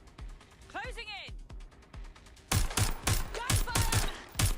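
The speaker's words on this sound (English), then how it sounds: "Gunfire!" Gunfire in the video game Watch Dogs: Legion: loud bursts of sharp shots in the second half, rapid and uneven, following a whistling sweep and a few thumps earlier on.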